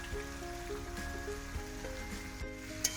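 Spice paste sizzling and frying in a pan for a vegetarian papaya dalna with peanuts, a steady continuous sizzle with faint stirring scrapes and one sharp clink near the end.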